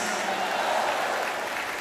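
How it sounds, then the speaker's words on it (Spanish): A church congregation applauding a long-serving string and vocal trio ministry, the clapping a broad, steady wash from many hands, moderately loud and even throughout, with a voice faintly present beneath it. "Un fuerte aplauso para este ministerio lindo"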